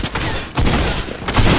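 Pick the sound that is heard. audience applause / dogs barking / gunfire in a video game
gunfire in a video game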